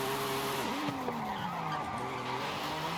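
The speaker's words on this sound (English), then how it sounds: "It's just a smooth car to drift." A car drifts in Forza Horizon 5, its tires skidding and squealing continuously over a steady engine tone, with sliding pitch sweeps as the car swings through the turns, loud and close throughout.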